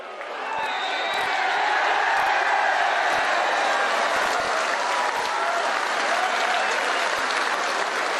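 Crowd of travelling football supporters cheering and applauding a late stoppage-time goal, a steady, dense roar of clapping and shouts that holds loud throughout with no individual voices standing out.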